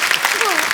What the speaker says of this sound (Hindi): तीनों बच्चों के लिए जोरदार तालियां